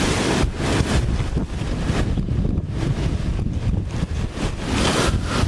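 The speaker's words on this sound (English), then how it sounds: "do I hear more wind? Yep, I do." Strong gusting wind during a thunderstorm in Glasgow roars continuously, buffeting the microphone with loud broadband rumble and no speech.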